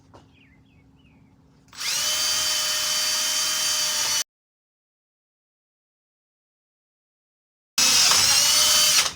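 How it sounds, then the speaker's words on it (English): A power drill bores into a metal mirror bracket for a Kubota L4701 tractor, a loud steady high whine for a couple of seconds, then silence, then another close burst. "Maybe my drill bit's getting a little dull."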